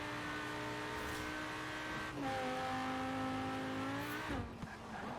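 Lamborghini Urus SUV with a tune accelerating hard in Forza Horizon 4, its engine note climbing steadily through two gear changes, loud and close and heard alone.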